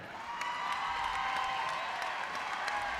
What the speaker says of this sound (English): He gets another standing ovation here from the crowd at Mohawk.